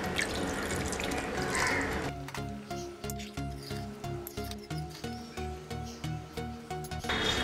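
About a cup of leftover mutton boiling stock is poured from a vessel into a cooking pot for biryani. A full gushing splash comes first, then a quieter run of rhythmic trickling pulses, close by with no talk.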